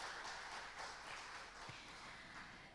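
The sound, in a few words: audience applause for event sponsors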